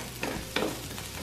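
Chile peppers fry in a hot pan, a soft steady sizzle with a couple of brief stirring scrapes, close and quiet, no voices.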